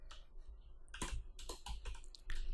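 Soft, irregular keyboard keystrokes clatter at a close distance over a low background hum, with a few sharper clicks near the end.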